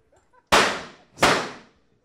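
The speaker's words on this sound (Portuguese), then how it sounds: "manda ele soltar a bombinha" Two sharp firecracker bangs about three-quarters of a second apart, each loud and close with a short crackling decay, quiet before and after.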